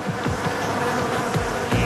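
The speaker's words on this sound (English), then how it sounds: "With the bees on loan from the apiary, Jamie carefully selects a contender." Honeybees from an apiary buzzing on a rooftop, a close, loud, wavering drone with sweeping pitch swells as individual bees pass near.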